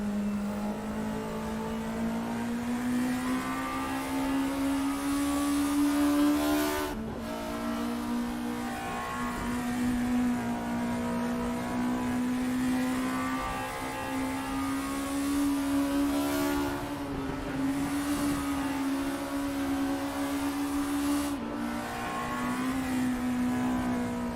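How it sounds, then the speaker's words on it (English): Group 2 Scirocco race car engines at Bathurst in a racing game, several cars droning loudly and steadily at high revs throughout, with brief dips as gears change and no speech. "I'll just let you listen to the engines for a bit."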